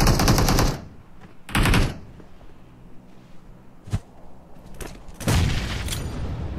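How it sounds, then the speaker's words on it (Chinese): Gunfire in a battle royale tournament game, rapid automatic bursts and single sharp shots, some loud and close and others fainter, separated by quieter gaps with a final sustained burst. "左边有个枪声"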